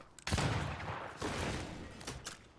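Musket gunshots in Banishers: Ghosts of New Eden, set in a snowy area, sound as a few close, loud blasts with rumbling tails, the second following about a second after the first, plus softer reports near the end.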